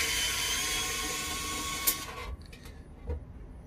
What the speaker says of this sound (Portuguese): tirar o primeiro parafuso ali